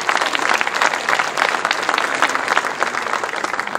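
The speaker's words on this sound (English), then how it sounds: "Give him a round of applause." A crowd claps steadily at a city's State of the City address, dense applause filling the room at a strong, even level for a few seconds, no voices standing out.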